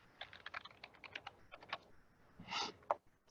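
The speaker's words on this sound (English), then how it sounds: "So I'm going to type in Halloween," Typing on a computer keyboard: quick, uneven runs of light key clicks close by, ending with a few firmer taps, faint and with no talking.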